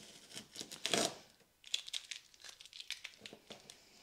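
Masking tape is handled, crinkled and torn off a roll at close range while a kit car's dash and Mazda clocks are installed, bursts of sticky ripping and crackling with brief pauses between pulls.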